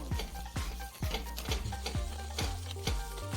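Atta halwa being stirred in a pan of ghee, a steady soft sizzle broken by regular scraping strokes of the spoon roughly every half second, close and fairly quiet.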